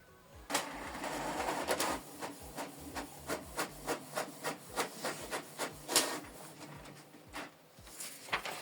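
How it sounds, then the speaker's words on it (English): A Canon Pixma TS8750 printer prints a test page, its mechanism ticking in a steady series of short regular clicks after an initial whirring feed, quiet and close with no talk. "Print test page."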